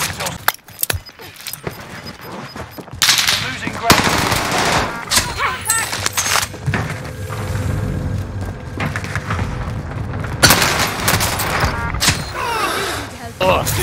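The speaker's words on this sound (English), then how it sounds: "why are you fucking shooting at me?" Rapid machine-gun bursts and scattered gunshots from the Call of Duty Warzone map Rebirth Island, dense and loud through most of the stretch, with people talking over the firing.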